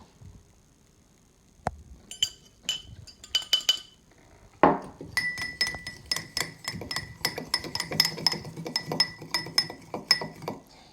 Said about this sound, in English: You want to mix well, making sure there are no sugar clumps